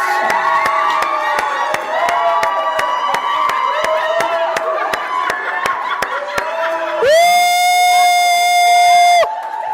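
Wedding guests cheering and ululating for the groom, a crowd of voices over steady rhythmic clapping, ending in a loud sustained high-pitched trill.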